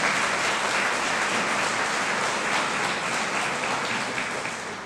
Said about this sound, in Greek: θα ήθελα να είναι και θερμό χειροκρότημα να τους συγχαρώ